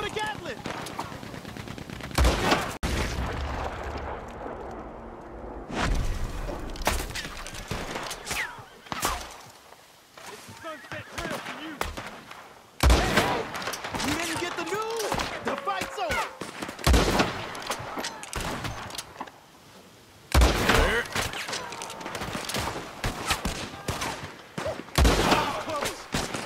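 Rapid mechanical bursts from a Gatling gun in the Red Dead Redemption 2 western, repeated loud volleys of gunfire separated by short gaps, with battle noise in between.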